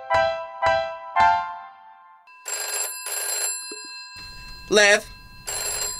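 An animated cartoon telephone rings in several bright electronic bursts, first three quick falling trills, then steadier sustained tones, with a voice calling out between the rings.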